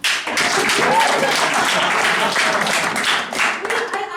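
A comedy show audience claps and cheers in a burst of applause, with a voice briefly heard over it before the clapping tapers.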